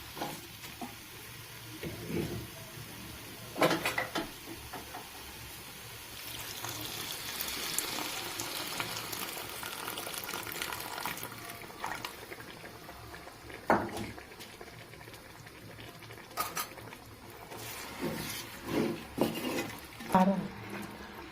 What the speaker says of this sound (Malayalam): ഇനി അത് ഒന്നിച്ച് കിടന്ന് തിളയ്ക്കണം